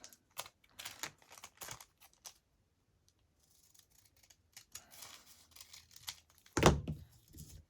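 Scissors trim a thin sliver off paper for a junk journal, giving a series of short crisp snips and crinkles in quick clusters, then a louder sharp cut near the end, with quiet pauses between.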